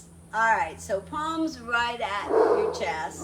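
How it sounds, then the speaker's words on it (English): Dogs bark repeatedly at a horse in the background, sharp yips and barks coming in bursts under a woman's calm spoken exercise instructions. "Sorry about the barking dogs."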